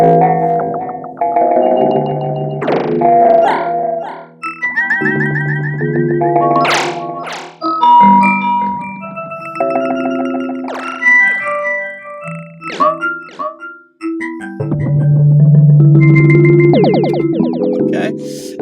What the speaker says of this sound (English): I'm going to have it set to the time of the delay.